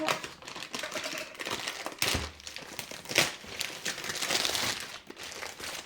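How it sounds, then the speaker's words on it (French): Plastic packaging bag being cut open, a close series of crinkling, snipping and rustling bursts with irregular rhythm, sharp crackles scattered through, no talk. "Que je vais devoir couper le sac."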